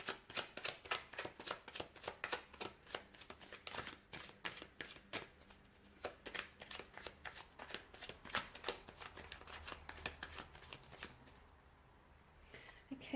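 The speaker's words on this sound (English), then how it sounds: "So I'll go ahead and give the cards a shuffle here," Tarot cards are shuffled by hand in quick, crisp riffles and flicks, close and clear, repeating in bursts for several seconds before trailing off.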